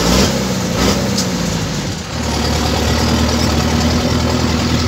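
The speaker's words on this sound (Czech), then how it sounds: "Jak možná slyšíte, praskne nám výfuk." An Avia A75 truck engine idles and rumbles steadily up close, with a harsh, raspy, popping exhaust note from a cracked exhaust running throughout.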